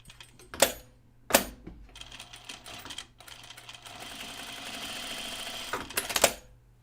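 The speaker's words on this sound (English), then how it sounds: "Let's sew a little bit and not flinch." A domestic sewing machine runs a steady stitching burst of about four seconds at close range, bracketed by sharp clicks and knocks of handling before and after.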